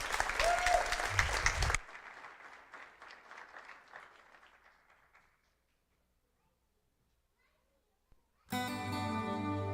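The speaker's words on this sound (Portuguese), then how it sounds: "vamos receber os nossos jovens aplaudindo bem forte ao Senhor Jesus" A church congregation claps in loud, dense applause for a youth group for under two seconds, then scattered fainter clapping trails off into silence before music begins.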